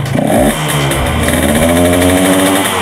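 A Yamaha RX King two-stroke motorcycle engine revs loudly up close, a sharp blip rising then holding a raspy, buzzing high idle throughout, with no talk.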